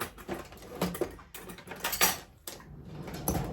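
Egg yolk being beaten in a bowl with a utensil, giving irregular clinks and scraping taps against the bowl's side in quick uneven bursts, close by and with no talking.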